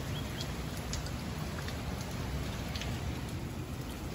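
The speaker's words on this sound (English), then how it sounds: "rainy day in Pensacola, Florida" Steady rain falling on a rainy day in Pensacola, Florida, a constant dense hiss of drops with a few brighter patters hitting nearby surfaces and no voices.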